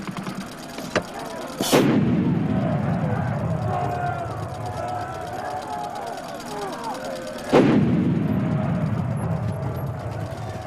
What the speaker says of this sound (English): the effective shot required not dummies, but real men to stand alongside the planted explosion